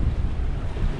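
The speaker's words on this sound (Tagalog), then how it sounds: "Hangin lang yan." Steady roaring wind buffets the microphone, a dense rumbling whoosh that stays loud and constant throughout.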